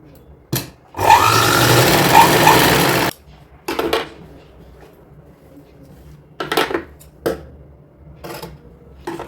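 A sewing machine stitches a hook strip for a young girl's designer dress in several separate bursts. One longer run is followed by shorter ones, with quiet handling noises in the pauses between them.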